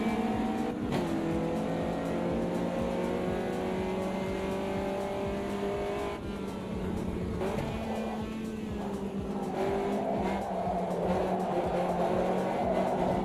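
Caterham race cars in a racing video game accelerate at full throttle, a loud, steady multi-engine drone that climbs through the gears, with brief shifts and dips as the engines rev on and on without pause.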